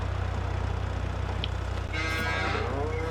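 Cattle moo on a farm in the video game Farming Simulator 22, a low drawn-out bellow rising over a steady droning engine hum of a vehicle pulling into the yard, with no talking.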